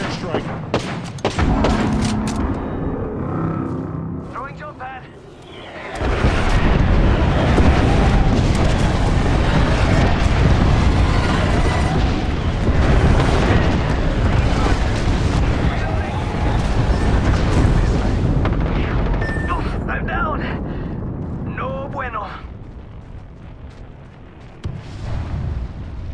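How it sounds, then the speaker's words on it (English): Deep, rumbling explosions from an airstrike in Apex Legends pound steadily and loudly, roaring for a long stretch before fading, with scattered gunfire and voices mixed in. "Calling the airstrike."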